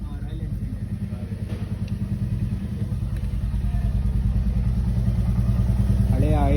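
A Royal Enfield motorcycle idles during a workshop service, its engine thumping in a steady, loud, close rhythm that holds throughout with clattering mechanical detail.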